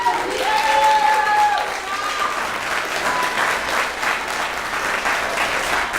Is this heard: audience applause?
yes